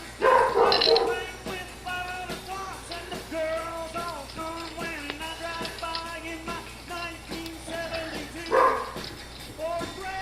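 Dog barking at someone in a basement, a few loud barks at the start and again near the end, with whimpering yips in between while someone talks over it.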